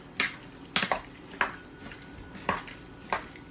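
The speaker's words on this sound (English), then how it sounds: "I am just going to stir this" Chicken, eggplant and rice in a pot stirred with a utensil, several sharp clinks and scrapes against the pot at an irregular pace, close and fairly quiet.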